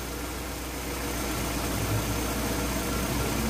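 Cold car engine idling steadily after a metal conditioner was added, a low, even hum that stays close and constant with no talk over it.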